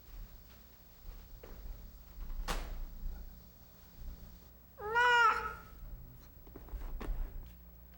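A cloned snow-white Turkish cat gives a single clear, rising meow during birth, heard close after quiet rustling and a sharp knock.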